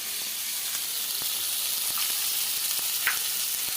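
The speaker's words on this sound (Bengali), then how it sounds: "তারপরে আমি ভালো করে এই সমস্ত মশলাগুলো ভাজবো।" Chopped onion, green chili, garlic and tomato fry in hot oil in a pan for a rohu fish curry, giving a steady close sizzle with faint scraping stirs and small spatters, no voices.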